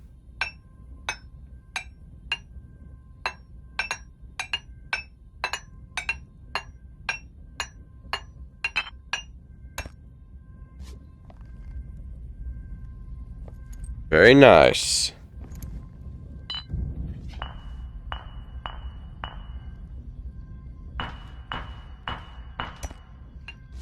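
A blacksmith's hammer strikes metal at a forge in BlackForge VR, a long run of evenly spaced ringing clinks, then a loud whooshing burst and more lighter metallic taps, with someone talking briefly.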